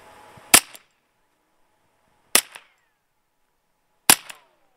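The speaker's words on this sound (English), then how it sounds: "This is the Colt 32 with a wet suppressor." Three sharp suppressed shots from a Colt .32 pistol fitted with a wet suppressor, each a loud crisp crack spaced about two seconds apart, with short decays into silence.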